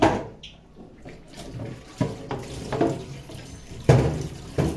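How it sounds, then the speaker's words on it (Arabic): Tap water runs steadily into a kitchen sink while raw chicken is washed with salt and vinegar, with a few louder splashes and clunks from handling; no one speaks. "دلوقتي هغسله بشويه ملح على طول وشويه خل"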